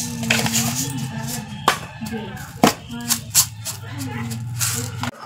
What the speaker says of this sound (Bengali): আমি অল্প করে সরষা জিরা বেটে নিচ্ছি